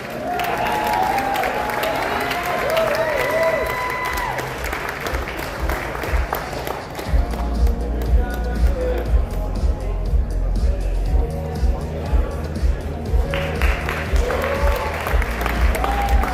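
Sustained audience applause and crowd noise at a Las Vegas XRP community meetup, loud clapping continuing for over fifteen seconds with some cheering and babble mixed in, and music or amplified sound underneath.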